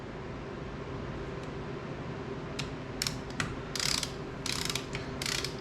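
Ratchet wrench clicking while torquing the cam bolts on a dual overhead cam Yamaha YFZ 250F engine during a valve adjustment, in short bursts of rapid clicks that grow denser near the end over steady low background noise.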